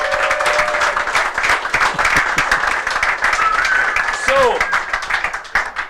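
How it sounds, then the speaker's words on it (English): A whisky club audience claps steadily throughout, dense applause filling the room, with voices and a few shouts or cheers rising over it near the middle and end. "give yourself a big round of applause"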